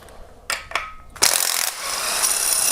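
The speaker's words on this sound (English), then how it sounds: "We're going to go ahead, remove that bolt." A ratchet wrench loosening a 17mm bolt on a Kia Optima timing cover, with a few close sharp clicks followed by a steady rapid ratcheting whir.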